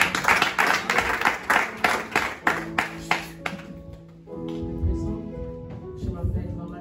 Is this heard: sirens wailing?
no